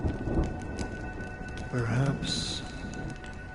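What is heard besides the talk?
rain and thunder in video game Honkai Star Rail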